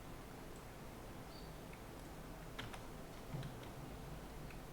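Faint keyboard key press and mouse clicks while working in Maya, a handful of light, sparse ticks spread over a quiet background hiss.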